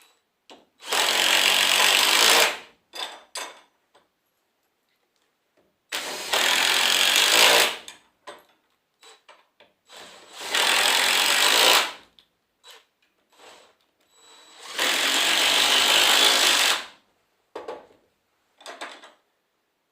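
A power tool drives 5/16-inch lag screws into a wooden gate in four separate bursts of loud, close whirring, each about two seconds long, with brief knocks and handling clatter between them.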